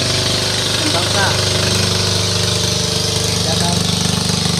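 A loud, steady boat engine drones throughout with a constant low rumble, while voices are faintly audible beneath it.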